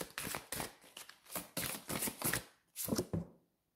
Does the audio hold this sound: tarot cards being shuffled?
yes